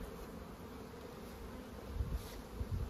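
Honey bees buzz at a hive being boosted with added adult bees, a steady close drone with a few louder swells as individual bees pass near, no speech.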